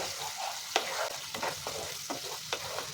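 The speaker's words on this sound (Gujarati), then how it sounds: "ટામેટા કૂક થઈ અને તેલ છૂટું પડે ત્યાં સુધી જ આપણે અહીંયા બધું સાતળવાનું છે" Oil sizzles steadily in a pan with occasional clinks and scrapes of a spoon stirring, close and moderately loud, no voices.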